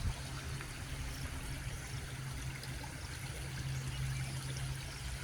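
Water flows steadily outdoors in a natural stream, a constant close rushing trickle that continues unbroken with no voices and no pauses.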